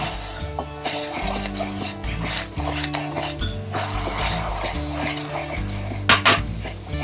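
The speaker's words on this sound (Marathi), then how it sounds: "पाणी उकळलं आपलं आणि थोडं थोडं पीठ टाकायचं आणि असं हलवायचं त्याला" Flour stirred into a pot of boiling water, a spoon scraping and knocking against the pot's sides in steady repeated strokes, close and fairly loud, with clinks of metal utensils and no talking.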